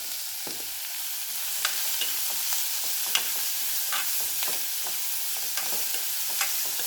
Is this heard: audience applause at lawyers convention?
no